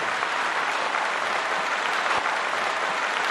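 Steady, dense applause from a large concert audience at a Romanian music gala in Timișoara, filling the space evenly from start to finish with no voices over it.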